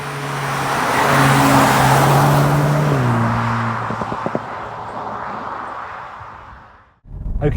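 A VW Mk8 Golf GTI Clubsport driving on a road, the engine droning loud and steady with rising gear tones, a shift around three seconds, then the sound easing off and dipping briefly before picking up again.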